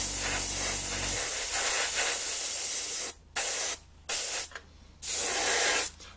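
Spray painting a model aircraft tail plane: a loud steady aerosol hiss, then four short bursts of spray separated by brief pauses, close up with no talk.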